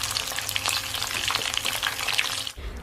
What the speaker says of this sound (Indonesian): terus kita goreng lagi di minyak yang panas